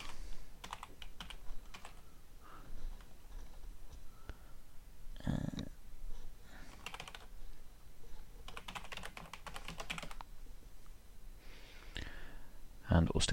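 Keys clatter on a computer keyboard as an email address is typed, coming in quick, uneven bursts separated by short pauses, close and moderately quiet.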